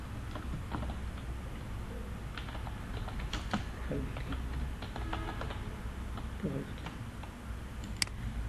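Quiet typing on a computer keyboard, soft scattered key taps over a steady background hum, faint and fairly close.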